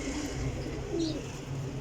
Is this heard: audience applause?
no